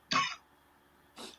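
Two coughs, one sharp and loud followed by a softer second about a second later, from a person reacting to the heat of a fiery hot pepper.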